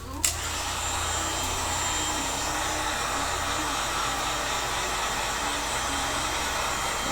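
A heat gun blows hot air onto a PVC bow limb, a steady, airy electric whir with a constant hum, running close and unbroken after a brief click at the start.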